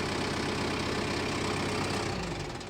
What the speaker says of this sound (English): we're going to start the tractor to show you